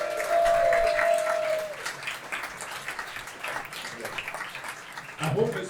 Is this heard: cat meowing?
no